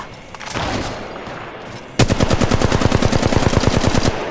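Gunfire in the mobile game Apex Legends Mobile: a scattered burst and a lull, then a loud, rapid, unbroken automatic weapon stream of evenly spaced shots.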